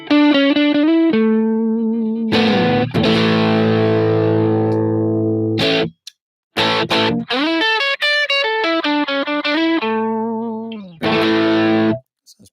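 Distorted electric guitar through a Plexi 50-watt amp model on a Headrush unit, chords and riffs ringing out loud and alone, with a couple of brief gaps and sustained crunchy notes between phrases.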